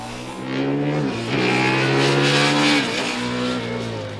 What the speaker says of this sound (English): So the engine's running, hopefully you can get this thing off the line.